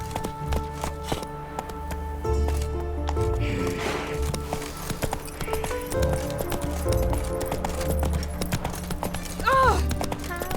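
Horse galloping in The Witcher 3, a steady clip-clop of hooves running through game music, with a brief whinny near the end and someone talking over parts of it.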